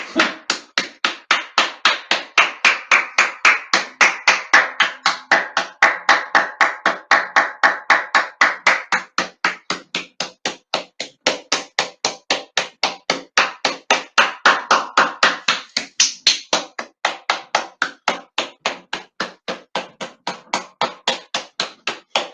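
A few people clap steadily in a fast, even rhythm for about twenty seconds, close and loud, with no talk over it, during an evening with kids outside and fireworks.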